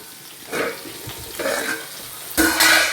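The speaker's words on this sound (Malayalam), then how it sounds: "കണ്ടോ തിളയ്ക്കുന്നത് കണ്ടോ" Fish curry with vegetables bubbles in a pot, giving a few soft, irregular gurgling bursts over a low background, with a louder surge near the end.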